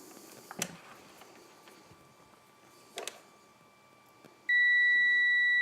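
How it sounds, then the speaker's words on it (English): A voltmeter tests a fuse from an off-grid solar battery box and sounds a steady continuous beep that starts abruptly and holds loud to the end, after a couple of faint handling clicks and taps. "that beeping you're hearing is the voltmeter telling me that the fuse is definitely good"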